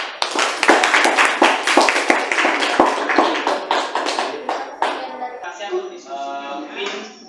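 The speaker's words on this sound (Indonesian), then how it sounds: "Kita berikan aplaus untuk kelompok 2" A biology class claps for group 2 after their presentation, with a burst of close, brisk applause from several students that tapers off as a voice starts talking over the end.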